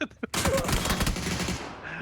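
A rapid burst of sustained automatic gunfire in PUBG on the Taego map, aimed at an armored vehicle, loud and dense, rattling for nearly two seconds before tapering off, with a voice just before it.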